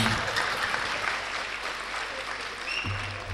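Steady applause from a crowd fills the space, dense and continuous, with a low rumble entering near the end.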